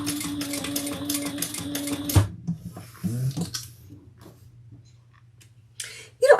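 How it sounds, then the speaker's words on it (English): Sewing machine running a line of stitches back over an earlier seam while sewing a slip pocket, a steady close mechanical whir for about two seconds, then stopping, with scattered handling clicks and faint shuffling after. "And then we'll come back over our stitches again"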